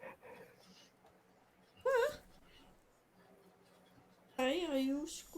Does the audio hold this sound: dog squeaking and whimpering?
yes